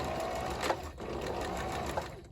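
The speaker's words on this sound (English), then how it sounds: "you can just kind of roll that up and then sew" A sewing machine stitches bag fabric near zipper teeth, a steady close mechanical whirr with quick rhythmic needle chatter throughout.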